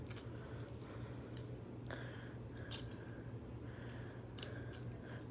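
Beyblade spinning-top toys, Right Spin and Left Spin Master Diabolos, making a few scattered light clicks and ticks against a steady low hum, faint and close, with no talking.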